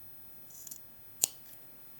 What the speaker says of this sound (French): je vais couper les surépaisseurs